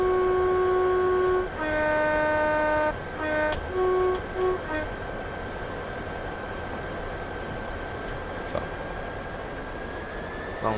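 A train runs on the Medway route in Train Simulator, with a horn-like tone sounding in several bursts at the start, then a steady rumbling drone and a rising whine toward the end.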